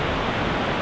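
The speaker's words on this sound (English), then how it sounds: "That's a mighty big river, and it sounds amazing." A mighty river near the Grand Tetons and Yellowstone rushes in a steady, broadband roar, close and continuous with no breaks, like dense white noise.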